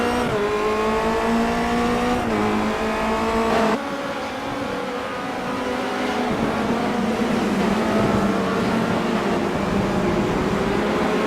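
Race cars lapping the Daytona road course in the iRacing video game, engines whining with rising and falling revs as they brake and downshift into a chicane, one car's tone dominating loud and close throughout.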